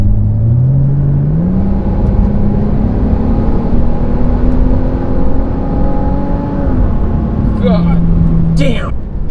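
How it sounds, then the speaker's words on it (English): Volvo S60 T6 R-Design on snow tires rounding a sharp corner, with a steady engine drone rising in pitch, continuous road and tire roar throughout, and a brief voice near the end. "the snow tires like to make noise,"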